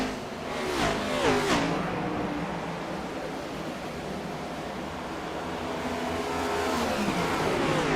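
Race cars in iRacing's CTC Wanted Goons Cup Series at the Southern 200, engines droning steadily with a passing car whooshing by early on, a continuous loud motor roar throughout.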